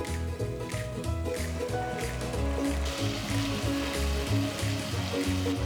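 Chillies and onion frying in a pan with garlic and ginger for a tomato gravy give a steady, loud sizzle; dense crackling runs throughout with no pause and no talking.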